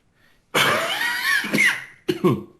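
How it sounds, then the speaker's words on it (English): A harsh, close cough followed by a couple of shorter, raspy coughs, loud and right at the microphone. "Coughing into the microphone."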